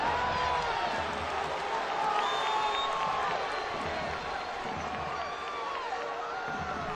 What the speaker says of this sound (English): The crowd are singing here at One Up Field